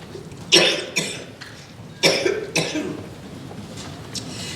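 A series of harsh coughs comes in uneven bursts, a couple close together, then quieter ones trailing off, close to the listener.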